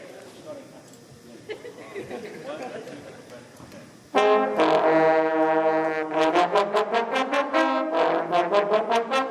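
A bass trombone counter-melody at a parents' band concert: a few seconds of low murmur, then loud, brassy tones enter with a long held note, followed by a string of short, rhythmic blasts.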